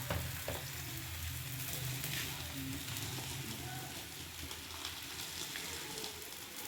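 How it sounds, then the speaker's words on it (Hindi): Makki ki roti cooks on a hot tawa griddle over a low flame, giving a faint, steady sizzle that continues evenly throughout with no breaks. "ये मैंने पहले ही तवा ऊपर रख दिया था गर्म होने के लिए। तो ये रोटी मैंने ऊपर डाल दिया।"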